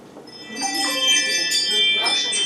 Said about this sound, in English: there's some nice chimes for you to listen to